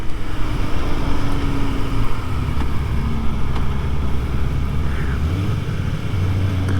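A Kawasaki ZX-4RR motorcycle is being ridden, giving a continuous engine drone mixed with wind rush at steady loudness throughout.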